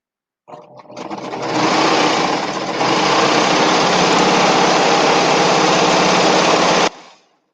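A serger runs a steady, continuous whirring burst for about six seconds while stitching a seam on a fabric drawstring bag, loud and close with no talk over it.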